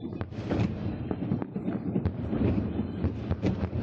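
Fireworks display bursting over a built-up city area during Eid al Adha, a dense run of rapid crackling pops and thuds with no break, moderately distant and loud.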